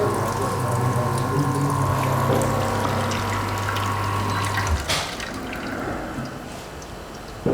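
Water flushes through the filter holder of a Bezzera Aria PID espresso machine with flow control, a pump hum and steady stream that cut off partway, leaving drips and faint gurgles from the group head.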